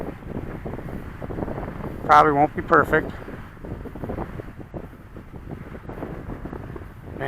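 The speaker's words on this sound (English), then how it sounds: "Man, is it windy." Strong wind buffets the microphone throughout a small RC plane flight, a FlyZone Cessna Corvalis 350 with a 1450mm wingspan, a steady rushing roar with a few louder gusts while someone speaks briefly.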